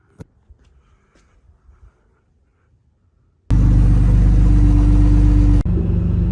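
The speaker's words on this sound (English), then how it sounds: "Engine is up to temp." After near silence with a few faint clicks, a car engine suddenly starts and runs loud and close with a steady rumbling idle, then settles into a slightly different tone.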